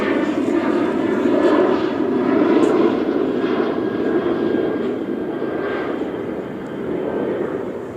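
Southwest Airlines airliner passing overhead, a steady broad engine roar with a faint whine that swells slightly and holds throughout at close range.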